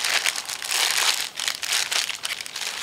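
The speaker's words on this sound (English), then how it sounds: "What I like to do is put the motor inside a plastic bag" A Ziploc plastic bag crinkles and rustles in close, uneven bursts as it is handled around a small motor, with no voices.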